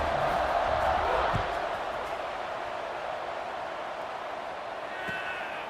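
Stadium crowd in a football video game roars loudly at first, then settles into a sustained broad murmur of many voices, with a couple of brief sharp sounds near the end.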